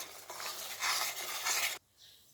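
Soft scraping and light sizzle of fish curry masala with fenugreek and coriander powder being mixed in a pan, in a few short stirring strokes, then dropping to quiet.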